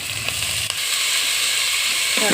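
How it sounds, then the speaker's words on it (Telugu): Sliced onions frying in hot oil with fenugreek, mustard seeds, garlic, dried red chilies and curry leaves, a loud, dense, continuous sizzle with a couple of brief stirring knocks. "ఉల్లిపాయ వేపేస్తున్నాను ఇదిగోండి ఉల్లిపాయ వేగుతుంది కదా"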